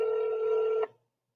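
A telephone ringing tone sounds as one steady sustained electronic tone that cuts off abruptly after under a second.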